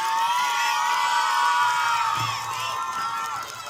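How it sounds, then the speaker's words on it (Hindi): Crowd at a school sports closing ceremony cheering and whooping after a gold medalist is named, a loud continuous mix of young voices shouting, fading a little at the end. "जोरदार ताली।"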